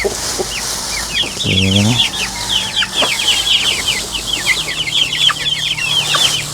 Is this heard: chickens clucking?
yes